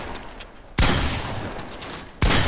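Gunfire rings out at a Fortnite creative-mode shooting range in the video game, with two abrupt, loud bursts of rapid shots separated by a quieter stretch of background game noise.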